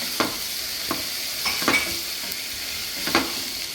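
Prawn fried rice ingredients frying and being mixed in a pan, a steady sizzle broken by several sharp scraping strokes of stirring, close and moderately loud with no talking.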